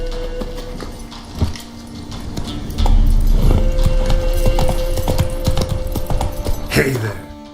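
Roach, a horse in The Witcher 3 video game, trots with rhythmic clip-clop hoofbeats up close, the game's music and ambience underneath and a voice speaking briefly over it.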